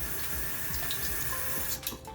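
Cold water runs steadily from a tap over a piece of sterling silver, a continuous close splashing wash that tapers off near the end.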